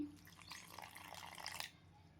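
Water is poured into a bowl of rajgira flour and rock salt for fasting bhaji batter, a short close splashing trickle lasting just over a second before it stops.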